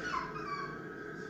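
A dog whimpers in a thin, continuous high whine that wavers slightly in pitch. The sound is close and steady, with no other noises around it.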